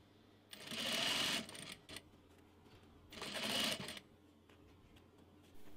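A sewing machine stitches elastic into the back of a skirt in two bursts of rapid whirring, about a second each, separated by a short pause, fairly close but quiet overall.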